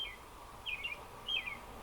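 A cardinal sings in a backyard on a fine day: two short, bright chirping phrases, moderately faint against a quiet outdoor background, with no talking.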